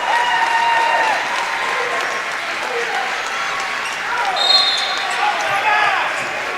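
Home crowd at a high school basketball game applauding and cheering as fans rise to their feet, a dense sustained roar of clapping and voices across the gym, with a commentator talking over it.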